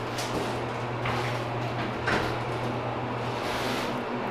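The rear door of a modernized Westinghouse hydraulic elevator slides along its track at a college campus, a steady low rumble over constant machinery hum, with no voices.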